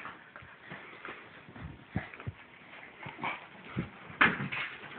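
A beagle puppy shuffles and snuffles close by, giving a few soft whimpers and small scrabbling sounds, with a short squeak near the end.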